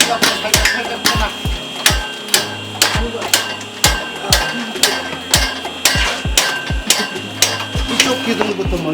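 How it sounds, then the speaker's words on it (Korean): Hammer tapping on the beams of a 105-year-old wooden building during structural work, sharp repeated metallic-wooden knocks at an irregular but steady pace, close and loud, with a low mechanical hum underneath. "망치 갖고 살짝 쳐놔"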